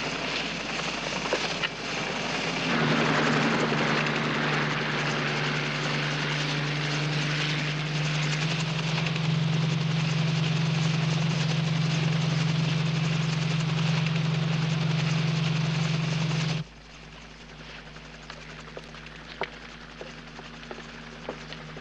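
A helicopter's engine and rotor roar steadily and loudly for a long stretch, then cut abruptly to a quieter, distant drone.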